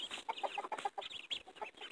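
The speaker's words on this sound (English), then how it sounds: "There's Mama Hen" Farmyard hen clucking near feeding chores, a busy run of short repeated clucks with some higher chirps, close and steady, with no one talking.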